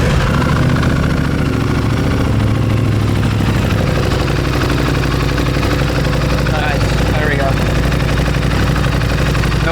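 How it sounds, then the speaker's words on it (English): An Aprilia Tuono 660 Factory parallel-twin engine with an SC Project exhaust and the silencer removed idles loudly and close, a deep, steady, throbbing burble, with a person talking over it. "the SC Project exhaust is on. It's sounding mean."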